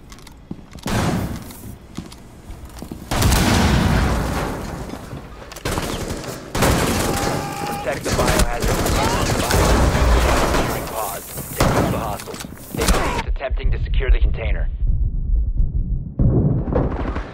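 Bursts of rapid gunfire and heavy shots crack out loudly in clustered volleys, with voices mixed in beneath the noise and brief quieter gaps between the bursts.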